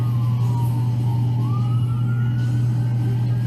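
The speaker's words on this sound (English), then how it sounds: "Here comes another ambulance." An ambulance siren wails near a Hooters in Las Vegas, its rising and falling tone running steadily over a loud idling engine drone, with no talking.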